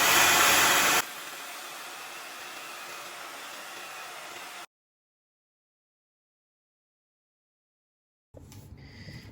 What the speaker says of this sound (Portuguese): aqui nessa quina, nós vamos passar o secador